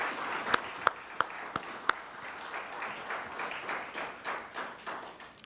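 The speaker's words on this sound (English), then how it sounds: "can we have just another round of applause for our speaker, Wes Becton?" An audience at a Veterans Day event in Hanover Park applauds a speaker. A few sharp, loud claps stand out at first over a softer, scattered round of clapping that continues throughout.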